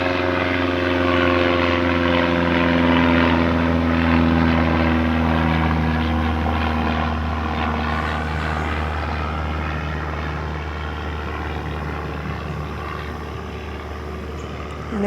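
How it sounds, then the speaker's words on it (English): An airplane flying overhead outdoors, a loud sustained propeller-engine drone with steady tones, continuous and slowly fading across fifteen seconds. "And take a moment to let this plane go by."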